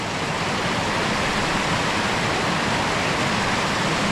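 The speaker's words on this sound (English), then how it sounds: "you can see the water cascading down there really, really fast, creating a lot of white water" Careyburn waterfall sends fast white water cascading down into a round pool, a loud, steady, broadband roar of falling water filling the whole stretch without a break.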